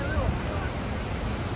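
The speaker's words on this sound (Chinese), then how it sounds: "现在走到这个瀑布的最下面了，还是挺壮观的" A large Bali waterfall roars in a continuous broadband rush heard from its base, where people swim. Faint voices mix into the steady noise.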